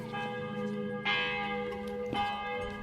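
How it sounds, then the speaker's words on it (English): Church bells in Austria ring out in two clear strikes about a second apart, each leaving a long humming resonance over a steady background. "the soft sound of the church bells in the background"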